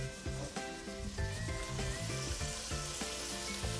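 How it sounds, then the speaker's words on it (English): Onions, garlic and shallot seasoned with salt and black pepper sizzle steadily in a pan, a continuous close frying hiss layered with a repeating tonal rhythmic pattern, with no talking. "We cook our onions and garlic together"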